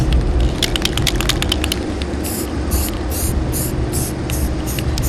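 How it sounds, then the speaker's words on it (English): Close, steady hiss of a spray paint can spraying a first coat onto craft pieces, broken into short bursts with rattly clicks between sprays. "then we're going to give them the first coat of spray paint"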